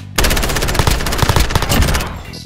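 Rapid automatic gunfire from an H&K MP7 in the video game Modern Warfare during a Search and Destroy match, a loud dense burst sustained for about two seconds and then cut off, with no talk.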